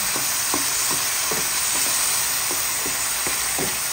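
Softened mung beans are sautéed with tomato, garlic, onion and ginger in a pan, with rhythmic scraping stir strokes about every half second over a constant loud frying sizzle.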